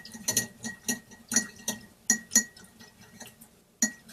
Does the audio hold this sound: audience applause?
no